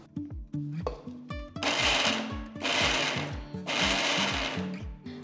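A mixer grinder pulses a coarse mix of green peas, spinach, green chillies, fresh coriander and ginger in short loud whirring bursts, with a steady machine hum between the three longer pulses.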